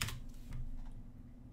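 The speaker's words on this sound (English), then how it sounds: "Let's type pacman-s development." A computer keyboard types a command into a Windows terminal while setting up C++ development tools, a quick cluster of close keystrokes, loudest at the start, then fading taps.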